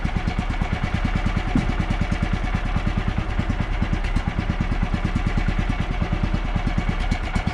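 A damp sawmill engine idling at close range, producing a steady, loud, rapidly pulsing mechanical thrum that holds an even pace throughout with no talking.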